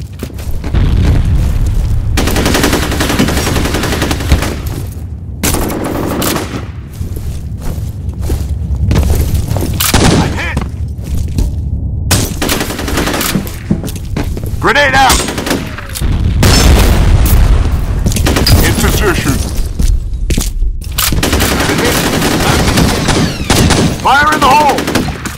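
A grenade blast amid heavy gunfire, with booming explosions and rapid bursts of shots filling a loud, chaotic, continuous battle.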